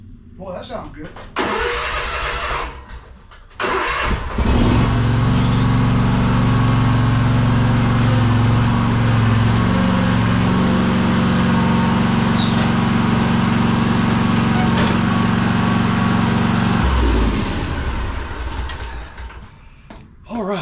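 A Kawasaki FR651V V-twin engine on a Simplicity Courier 42-inch zero turn mower cranks, catches, and runs loud and steady with revving for about twelve seconds before shutting down; a person talks briefly around it.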